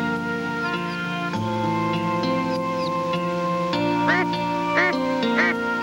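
A mother duck (hen) calls her newly hatched ducklings from the nest, with repeated quacking calls over a steady musical background.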